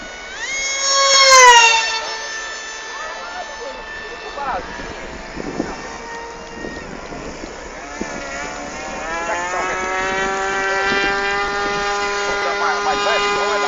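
Small RC pylon race airplane on its first flight, a fresh 4S-powered motor whining at a high pitch that rises and falls as it passes, first loud and near, then steadier in the distance while people talk over it.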